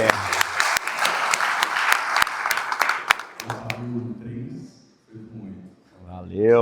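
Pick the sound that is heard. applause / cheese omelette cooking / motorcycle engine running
applause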